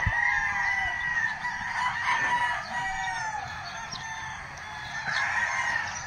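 Many chickens cluck and a rooster crows on a morning walk in Tagaytay, a busy overlapping chorus of fowl calls at moderate distance, steady throughout with no talking.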